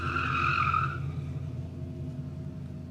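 A Subaru BRZ or Scion FR-S drifts on a track in Mexico. Its tires squeal and skid in a strong burst for about a second, then fade into a quieter engine drone heard from a distance.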